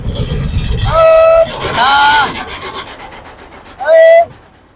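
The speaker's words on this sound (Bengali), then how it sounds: "হ্যাঁ ট্রেন আছে ট্রেন আছে" A train passes close by, heard from inside a truck, with loud harsh tonal blasts or squeals in two bursts and a rumbling, grinding noise between them.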